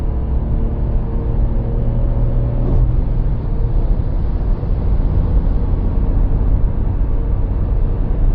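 A Dacia Jogger 1.0 TCe ECO-G 100 hp petrol car with a six-speed gearbox accelerates in a lower gear, its engine a steady, loud, low droning rumble from inside the cabin with a faint rising tone partway through.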